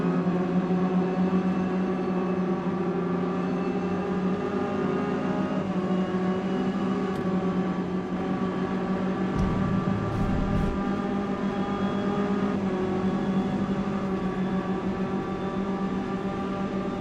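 Racing car engines in the Forza Motorsport game, with Ginetta Junior cars on track, drone loudly and continuously with a steady tonal whine, slight pitch shifts and a brief low thump midway through.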